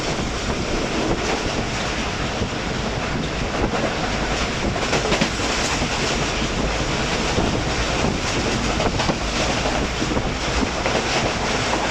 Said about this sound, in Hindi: शालीमार एक्सप्रेस गोजरा से थ्रू पास हुई